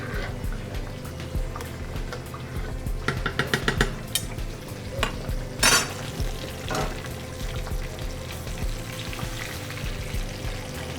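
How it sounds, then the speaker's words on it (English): Rice cooks in a pan with butter as it is stirred from the bottom, producing a continuous sizzle and bubbling with irregular scrapes and clinks of a utensil against the pan, close by and without speech. "Make sure you stir from the bottom."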